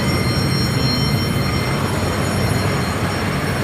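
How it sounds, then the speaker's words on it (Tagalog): An MRT metro train in Fairview rumbles past nearby, steady loud mechanical roar with high whining tones and rolling wheel noise, no voices. "Patapos na po ang MRT."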